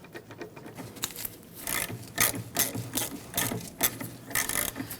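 Ratchet wrench working a rear brake caliper bolt loose on a 1999-2004 Jeep Grand Cherokee: a close, rhythmic series of rasping clicks in uneven bursts that grow louder partway through, with no talking.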